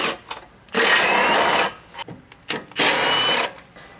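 A power tool removes the running board bolts on a Toyota Tundra, letting out two loud whirring bursts of about a second each, separated by shorter faint blips and quiet gaps.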